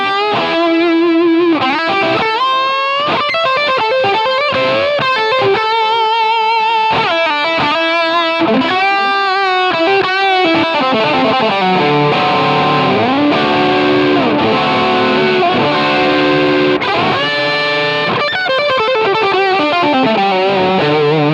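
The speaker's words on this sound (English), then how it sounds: "Or even go to something very different, maybe to the Ratatouille distortion." Heavily distorted electric guitar through a Line 6 Helix, with no amp, plays loud sustained chords and riffs, continuous and dense with no voices.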